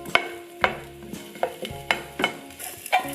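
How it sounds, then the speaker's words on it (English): A few slices of ginger fry in a pan, with a steady soft sizzle broken by six sharp, regular scraping clacks of a utensil stirring against the metal. "slice a ginger, a few pieces. Fry until you can get aroma"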